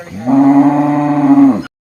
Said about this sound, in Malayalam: പശുക്കളും കാളകളൊക്കെ ഉണ്ട്